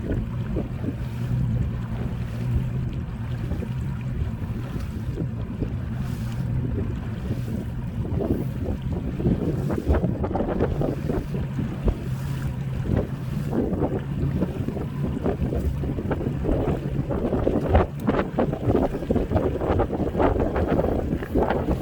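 A Ranger Z21 boat motor runs on Lake Conroe with a steady, full drone, buffeted by wind noise and rushing water throughout. No one speaks.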